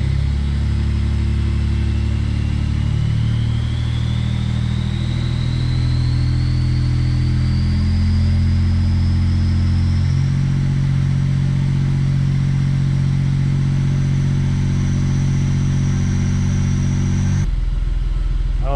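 Turbocharged Smart Fortwo engine revving, a loud close-up drone with a rising turbo whine over about seventeen seconds before an abrupt cut.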